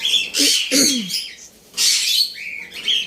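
Pet birds call at morning feeding time, a few close chirps and squawks in short bursts separated by brief pauses, with no talk.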